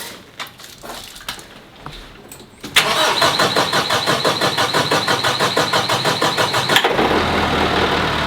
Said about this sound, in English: And we get to use the tractor.